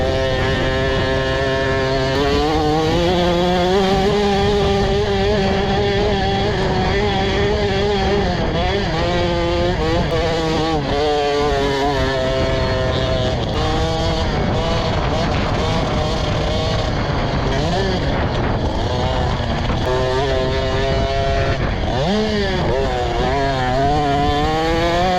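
Motocross motorcycle engines at a Gold Cup race, loud and sustained, rising and falling as the throttle opens and eases. Several bikes overlap, with a whining two-stroke-like drone under a steady wash of noise.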